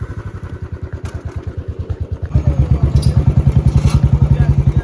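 A motorcycle engine putters in a steady, close idle rhythm near Raigad fort in Pachad, then grows louder and heavier as it is revved while being maneuvered into a spot.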